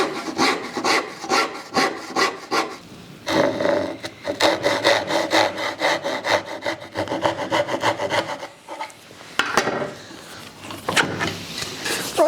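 Tenon cheeks are cut by hand in wood with a handsaw, heard as bursts of rapid, rhythmic rasping strokes close to the microphone, broken by short pauses between cuts.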